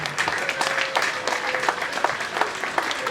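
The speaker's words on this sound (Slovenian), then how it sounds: "En aplavz za gospo Valerijo Ježa" Applause from an audience at a live welcome reception in Slovenia, dense and steady for a few seconds, with a voice briefly audible over the clapping.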